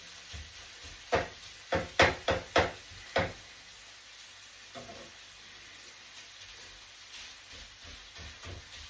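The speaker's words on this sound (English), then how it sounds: "so your beef's nicely cooking" Beef for a Peking-style dish sizzles in a hot pan, a run of sharp bursts of hissing spatter early on, then settling into a softer, steady fry with occasional smaller pops.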